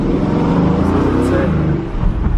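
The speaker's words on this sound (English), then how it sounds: "has the sports exhaust. We're driving an Aston out of a 100 million euro house." An Aston Martin fitted with a sports exhaust pulls out of a driveway tunnel at a Monaco mansion, a loud, deep engine rumble that builds steadily, with people talking over it.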